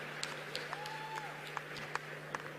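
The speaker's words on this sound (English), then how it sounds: "Let's give them a warmer round of applause" An audience applauds at the African Climate Summit in Nairobi: a steady wash of clapping from a large crowd, heard at a distance, with a few louder claps standing out and a faint background hum.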